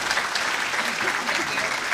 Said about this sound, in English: Another round of applause for Waratah Brass Academy there.